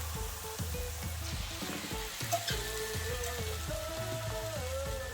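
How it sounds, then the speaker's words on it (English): Kimchi sizzles and crackles in a hot pan while it is stir-fried, with scraping and light clatter of a utensil against the pan. "now we're gonna add all the kimchi"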